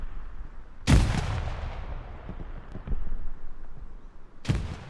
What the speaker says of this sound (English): Lots of grenades getting thrown from both teams.